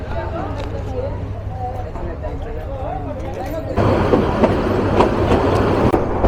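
The Mohanganj Express, an intercity train in Bangladesh, rolls along after leaving Barhatta station with a constant low rumble and rhythmic wheel clatter that grows louder partway through, while a voice speaks over the first half.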